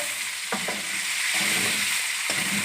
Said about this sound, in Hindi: चिकन ऑलमोस्ट फ्राई हो चुकी है।